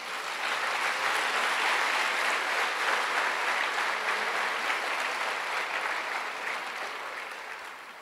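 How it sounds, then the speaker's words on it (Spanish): A church congregation claps together in praise, a sustained, even wash of applause from a large crowd that stays steady for several seconds before easing slightly toward the end. "Denle un aplauso al Señor."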